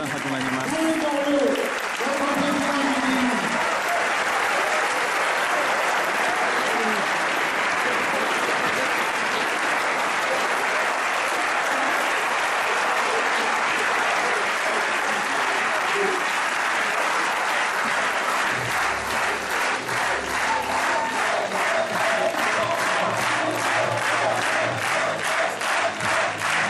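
Thunderous crowd applause for a political speech by Jean-Louis Borloo, a dense, sustained roar of clapping lasting many seconds, with cheering mixed in and rhythmic unison clapping building near the end.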